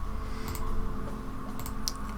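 Rapid, light mouse clicks and keyboard taps on a computer, made while cutting out shapes with a lasso tool in Blender and MakeHuman. The clicks are quick and close, over a steady low hum, with no talking.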